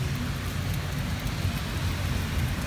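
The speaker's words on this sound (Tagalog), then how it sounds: "Lakas ng ulan." Heavy rain pours down in the UAE, a dense, continuous hiss of drops hitting the ground and surfaces, steady and fairly soft at a distance, with no voices.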